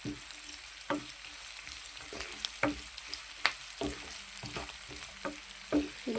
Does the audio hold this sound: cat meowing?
no